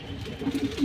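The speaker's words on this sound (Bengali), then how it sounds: "এই হচ্ছে এক জোড়া পাকিস্তানি কবুতর" A pair of Pakistani pigeons kept with two chicks coos in a short burst of three or four close, soft throaty pulses, rising at the end over a faint background hum.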